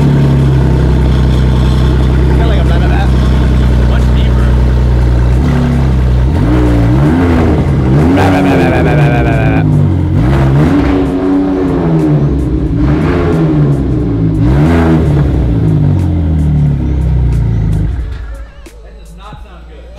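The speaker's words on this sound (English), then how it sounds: "Do you think the people want to hear straight piped EcoBoost V6?" Straight-piped EcoBoost V6 on a Gen2 Ford Raptor revving hard, a loud, raspy exhaust roar that climbs and falls through repeated revs over a rumbling idle before cutting off abruptly near the end.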